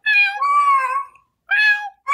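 A cat meows loudly and close: two drawn-out, wavering meows, a brief pause, then the start of a third.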